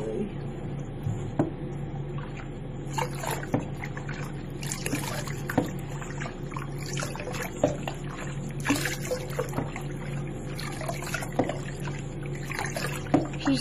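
Water tipped over a 13-week-old pug puppy in a small tub at her first bath, a faint continuous trickle and splash with soft sloshing and small knocks throughout, fairly quiet and close.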